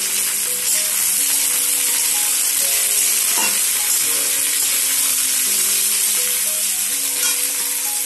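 Chopped vegetables for an aloo gobi baingan mix sabji hit a pan of fried onions, with continuous loud sizzling and frying, occasional stirring scrapes, and a faint tonal hum underneath.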